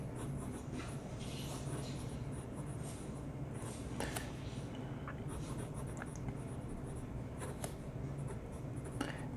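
A Penbbs 268 fountain pen, lighter than the 456 model and filled with Private Reserve Spearmint ink, scratches steadily across paper in a continuous soft rubbing with faint stroke clicks, close up.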